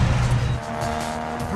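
Street race cars roar and screech their tires at the start of an opening race, loud and close, engine noise dense throughout with a sustained squealing tone.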